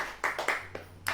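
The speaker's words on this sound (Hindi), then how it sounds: "ताली बजाइए" Audience clapping at a church service, a few short bursts of hand claps rising and falling across a second, fairly faint against a low background hum.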